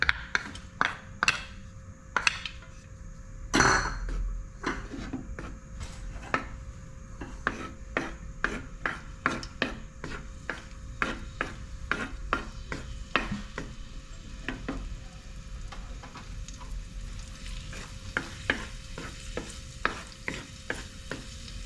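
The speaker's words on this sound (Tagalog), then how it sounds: "maglalagay po tayo ng garlic" Garlic sautéing in oil in a pan for sotanghon guisado, close and steady, with a low sizzle under repeated scraping and stirring strokes of a utensil against the pan.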